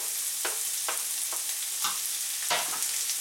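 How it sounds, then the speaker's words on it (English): Onion and pepper fruit frying in a pan, a bright continuous sizzle broken by several spaced scrapes of a spatula stirring, close and fairly loud, with no one speaking. "And we fry the onion until they start to get shiny."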